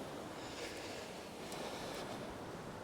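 Steady wind roars and rushes across the microphone, a constant broadband noise with faint swells, no voices present.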